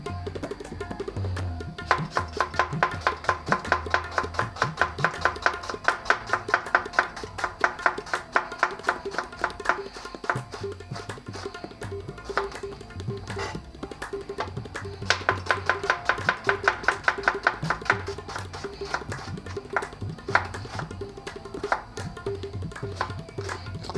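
An onion is chopped with a knife on a cutting board while making Punjabi rajma masala, rapid bursts of sharp taps in two long runs separated by pauses, close and clear.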